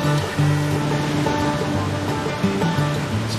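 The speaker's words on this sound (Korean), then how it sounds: "황토빛 토사를 쏟아내며 거칠게 흐르는 급류" Muddy, silt-laden rapids roar toward a waterfall on the Mekong River in Laos, a dense continuous rushing wash of water, loud and unbroken, with a faint tonal hum underneath.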